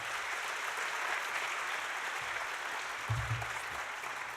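Steady, fairly soft applause from an audience at a genocide commemorative event, a continuous hiss of many hands clapping with a few low thumps near the end.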